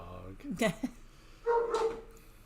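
A dog barks a few times in a home during a Christmas in July gathering, short yips and barks close by, mixed with people talking.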